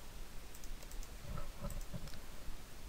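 Typing on a computer keyboard while a repository address for an iPhone unlock is entered, a few clusters of light keystrokes close by over steady background hiss.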